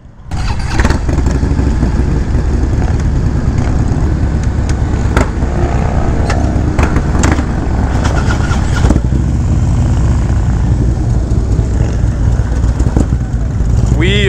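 A Harley-Davidson Ultra Classic motorcycle engine runs loud and close, a steady low rumbling throb with wind noise throughout, and a voice speaks briefly over it.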